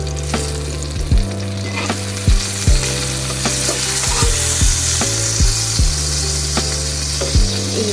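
Koi fish sizzling and frying steadily in hot oil for a Bangladeshi hotel-style koi fish bhuna, with a continuous crackle broken by several sharp stirring or spatula knocks against the pan, close and fairly loud, no talking.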